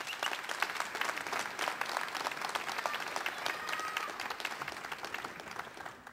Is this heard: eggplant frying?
no